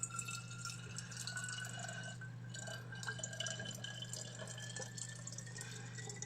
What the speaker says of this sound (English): just over 400ml of cooled down kettle water. So that will go in the bottles.